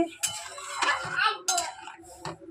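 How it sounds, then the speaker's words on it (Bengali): Semolina with mashed banana stirred in a pan, a metal spoon scraping and clinking against the pan in a few uneven strokes, close and fairly quiet. "দিয়ে এটাকে একটু নাড়াচাড়া করবো"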